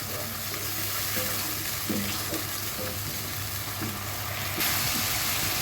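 Potatoes frying in a pan as the first step of a light summer vegetable curry, ahead of the ridge gourd; a steady close sizzle runs throughout with soft scrapes of stirring and no talk.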